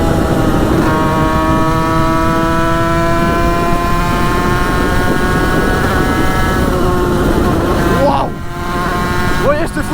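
A Derbi moped-style motorcycle pulls hard while riding, its engine whining in a high, steady drone that climbs in pitch, then dips abruptly near the end before picking up again. Loud and close with wind rush.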